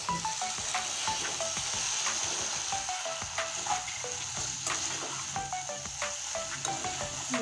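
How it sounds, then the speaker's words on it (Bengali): Okra frying in oil in a pan, giving a steady dense sizzle with scattered light clicks and scrapes from stirring, close and continuous throughout with no talking. "এবার ভেন্ডি ভাজাটা দেখে দিচ্ছি"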